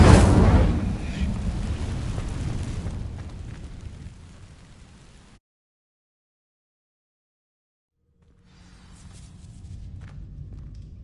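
A fire spell in Hogwarts Legacy sets dry vines alight with a loud whooshing blast of flame that rumbles and fades over several seconds. Silence follows, then a soft low hum returns.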